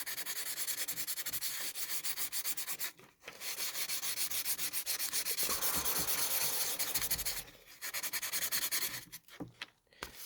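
Close, steady rasping of an opal stone being hand-sanded on a wooden desk in long rhythmic strokes, broken by two short pauses, with no voices.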